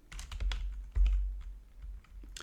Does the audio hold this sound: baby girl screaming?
no